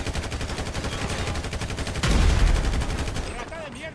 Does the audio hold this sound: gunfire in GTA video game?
yes